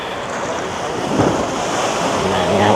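Ocean waves wash onto Padang Padang Beach in Bali, a continuous surf roar mixed with wind buffeting the microphone and faint background activity.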